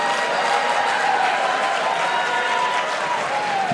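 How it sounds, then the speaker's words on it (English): Steady, dense applause from a comedy club audience, sustained evenly for several seconds with faint crowd murmur mixed in and no voices on top. "Clap if you have absolutely no idea who I am whatsoever."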